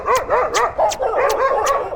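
Several dogs bark in quick, repeated yaps as they chase after a bike taxi on a city street, the sharp barks close and loud in a steady rapid rhythm.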